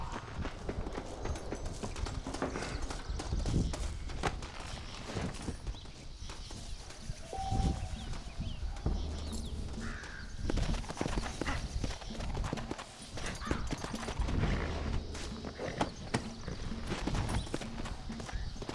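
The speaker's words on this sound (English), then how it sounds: "Looks like Carlos left us some horses." Horses in the Red Dead Redemption video game clip-clopping at pace, a rapid hoof rhythm running steadily throughout with an occasional whinny and light background voices.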